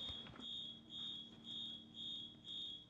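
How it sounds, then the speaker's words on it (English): A recorded fire alarm plays a shrill, high electronic tone pulsing in even beeps about twice a second, steady and continuous with no voices. "Why are you playing a fire alarm?"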